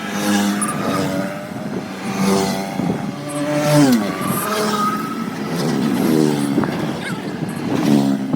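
A motorcycle engine revs and pulls away nearby on a Republic Day ride, rising and falling whines with gear-change swoops layered over a rough low rumble, loud and close throughout.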